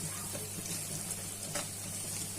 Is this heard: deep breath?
no